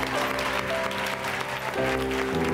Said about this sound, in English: Could I ask for a round of applause for all of our speakers?